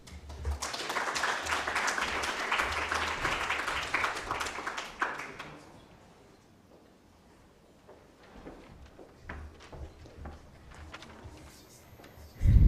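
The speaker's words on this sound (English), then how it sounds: "Let's give him another round of applause" Applause from the audience at the finals of the 12th AKMCC moot court competition, Kenyatta University versus Africa Nazarene, fills the hall for about five seconds, loud and dense, then fades to scattered claps and quiet room noise.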